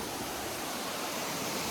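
Water pours down a waterfall in the Western Ghats forest, a steady broadband rushing roar, faint and unbroken, with no voices.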